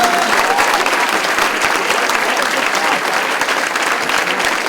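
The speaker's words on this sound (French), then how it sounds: "on peut les applaudir pour les accueillir ici dans cette assemblée" A political party assembly applauds around 300 newly joined members, a steady, dense roar of many hands clapping throughout without letting up.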